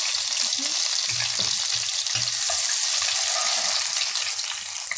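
Steady loud sizzling of ginger and garlic frying in hot oil, with faint stirring clicks and taps underneath, close by.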